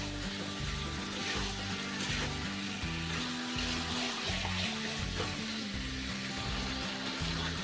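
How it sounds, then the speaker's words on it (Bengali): Chicken pieces sizzle and fry with spices in a pan for a chicken curry, giving a steady crackling hiss with no talk. "চিকেনগুলো দিয়ে নেড়ে নিচ্ছি। মশলার সঙ্গে ভালোভাবে মিশিয়ে নিচ্ছি"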